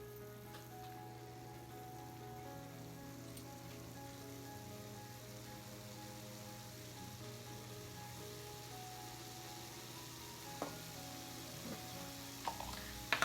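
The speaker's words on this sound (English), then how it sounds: "Now that my meat is fully cooked, I'm going to start adding in my brown mushrooms." Brown mushrooms frying in a pan with already cooked meat give a steady, soft sizzle that runs evenly throughout, with a few faint clinks of a utensil near the end.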